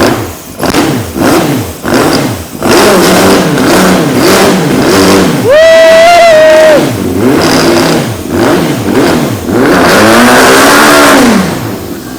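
A Honda sportbike engine, wrecked and revived, runs and revs repeatedly in close, loud bursts, rising and falling in pitch with one sustained high rev in the middle.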